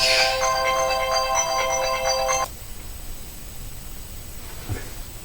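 A telephone rings with a loud, bright electronic ringtone pattern for about two and a half seconds, then cuts off, leaving a quiet room hum.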